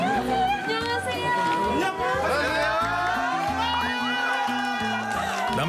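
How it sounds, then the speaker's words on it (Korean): Male students cheer and shout loudly as visitors enter a crowded school cafeteria, dense excited crowd noise with whoops and chatter running continuously, under background music. "남학생들의 격한 환호를 받으며 급식소 내부로 들어간 두 사람"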